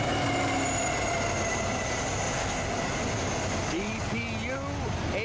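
A long Norfolk Southern freight train rolls across a bridge, a loud continuous rumble of wheels with squealing and screeching metal tones rising near the end, while people talk faintly in the background.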